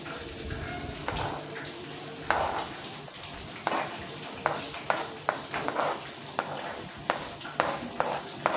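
A spoon stirs cucumber raita with salt in a bowl, making a series of soft, wet scraping strokes in an irregular rhythm, close up and fairly quiet.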